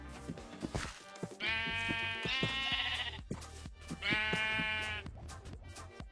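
Minecraft sheep bleating in a video game, several drawn-out nasal bleats in a row with short gaps, loud and close over a faint background of game noises.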